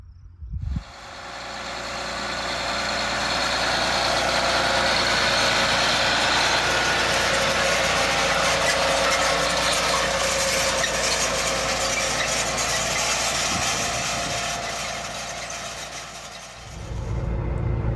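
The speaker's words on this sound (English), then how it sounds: "I'm up in the cab of the John Deere 8RX 340, and we can see it working its way across the rows here." A John Deere 8RX 340 tractor cultivating 24 rows of corn, heard from inside the cab: a steady, loud low engine drone and rumble that holds evenly for most of the stretch before easing off near the end.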